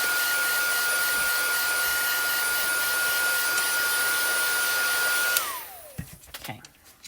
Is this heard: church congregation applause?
no